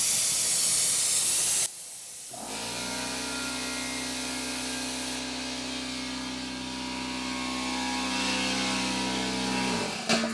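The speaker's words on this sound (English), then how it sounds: "it will start shooting some of the coolant you just sucked in it out" A coolant fill tool on a Subaru STI gives a loud hiss, drops out briefly, then settles into a sustained, steady hissing spray with a faint mechanical tone underneath, cutting off near the end.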